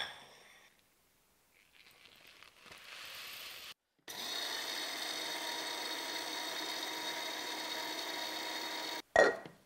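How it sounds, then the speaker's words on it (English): An electric spice grinder pulverizing toasted dry chilies for a Tunisian tabil spice blend, starting after some faint handling noise, then a steady whirring drone for about five seconds before stopping abruptly, with a short clatter at the end. "And we're going to add that to our spice grinder. We're going to grind it"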